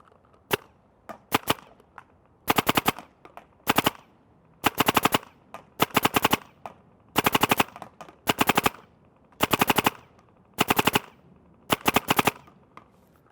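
An Empire Battle Tested Apex 2 paintball marker fires volley after volley outdoors, each burst a tight rapid string of sharp pops separated by short pauses, loud and close, with no voices.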